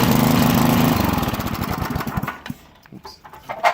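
A small engine runs after being choked, chugging fast and loud up close, its rapid pulsing slowing and sputtering before it dies down to a rough, uneven idle.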